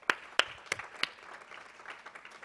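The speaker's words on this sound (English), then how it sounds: "Can we give them a round of applause?" A few faint, sparse claps from the audience at a community forum on young men of color, four distinct hand claps early on, then softer scattered patter fading into low room noise.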